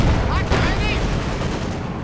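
Rapid bursts of gunfire in a Company of Heroes 2 firefight between tanks and infantry, sharp overlapping shots over a dense rumble of battle with a voice talking over it.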